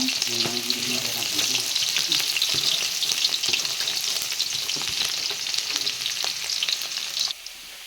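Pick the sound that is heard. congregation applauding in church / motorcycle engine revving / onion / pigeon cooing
onion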